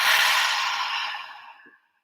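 A deep, breathy exhale during a guided meditation breathing exercise, loud at first and trailing off softly over about two seconds, heard alone.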